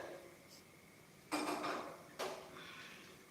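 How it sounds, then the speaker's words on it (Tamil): Tempering pan set down on a kitchen stove, two distinct metallic clanks close by, each with a short ringing tail, over quiet room background. "இந்த மாதிரி தாளிப்பு வாங்கி எடுத்து அடுப்பில் வச்சுக்கிறேன்"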